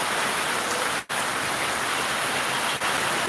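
Heavy rain falls outside in a steady, dense wash of noise with a couple of brief dips, unbroken and close.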